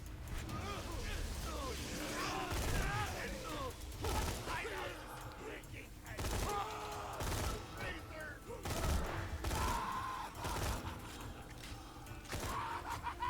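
Gunfire from a weapon in the video game Borderlands 2, repeated sharp shots in uneven bursts mixed with game effects, with someone talking over much of it.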